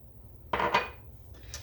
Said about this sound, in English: And all you do is you stir this up.